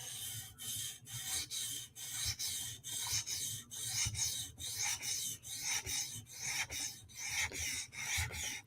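A Hinderer knife is stroked across a 400 grit stone on a TSProf Kadet sharpener, producing about fifteen soft, even rasping passes in a steady rhythm, quiet and close with no talking.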